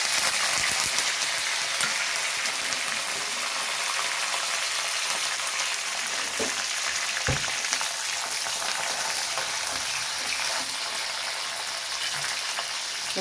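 Garlic and curry leaves frying in hot tempering oil for gongura pachadi: a loud, continuous crackling sizzle with dense spitting pops and a few sharper bursts, steady throughout, no talking.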